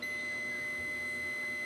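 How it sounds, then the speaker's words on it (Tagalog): A multimeter's continuity buzzer sounds a steady, high-pitched electronic tone, continuous and unbroken over faint background hum, while testing an ASUS X515E laptop board with a no-power fault. "meron tayong nakuhang sound. Nag-buzzer siya."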